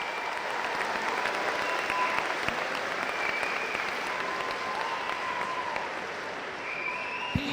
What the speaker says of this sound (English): Let's throw some applause for Stacy Schroeder-Watt.